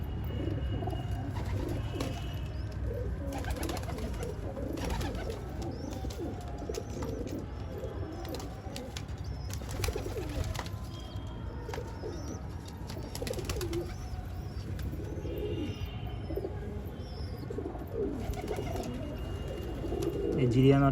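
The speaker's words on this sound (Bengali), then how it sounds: "এটা হচ্ছে বাড়ির বাচ্চা পায়রা" Young domestic pigeons in a home loft coo softly at intervals amid a steady low background hum and rustle, with faint chirps and a brief wing flutter near the end.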